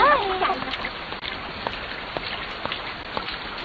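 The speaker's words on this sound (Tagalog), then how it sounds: "Hindi pa rin tumitigil ang ulan." Steady rain falls on a surface with scattered drop patters throughout, and a voice briefly at the start over the rain.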